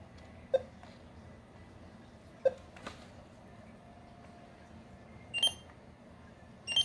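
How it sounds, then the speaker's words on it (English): A barcode scanner beeps as items are scanned during a retail inventory count: short, faint single beeps spaced a couple of seconds apart over a quiet background, with no talking. "You'll hear the correct beep."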